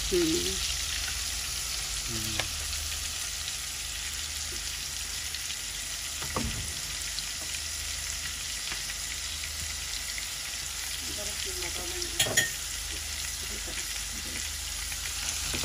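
Spice paste fries in oil with a steady, close sizzle and hiss throughout, broken by a few faint clicks and scrapes.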